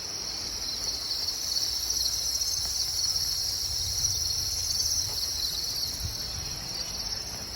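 Farmed crickets chirp in a dense, continuous high trill from many insects at once, steady and close throughout, over a faint low background rumble and no voices.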